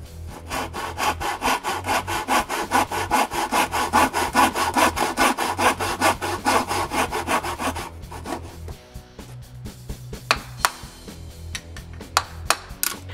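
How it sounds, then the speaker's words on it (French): Hand saw cutting the shoulder of a wood joint on a workbench, steady rhythmic back-and-forth strokes for about eight seconds, then a few slower scattered strokes and taps, close and clear with no talking. "pour m'aider à suivre la ligne quand je coupe l'épaulement"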